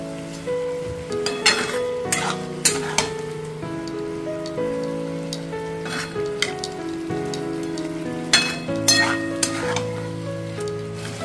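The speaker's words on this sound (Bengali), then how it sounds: "এবারে খুব ভালোভাবে 3-4 মিনিট ধরে এটা কষিয়ে নিতে হবে।" Cauliflower roast masala is stir-fried in a pan, giving a crackling, rain-like sizzle broken by repeated sharp scraping bursts of a spatula against the pan, heard over background music with no talk.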